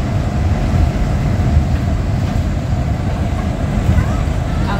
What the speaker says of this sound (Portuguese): Além desse trem que traz o minério